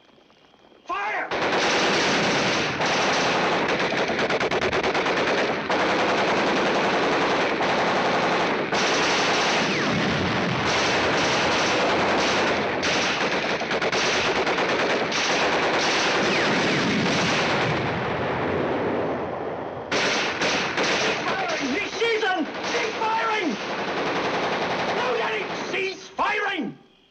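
Machine-gun fire from a 1951 war film, loud sustained bursts of automatic gunfire rattling almost continuously, with a brief break near the end before more shots and shouting voices.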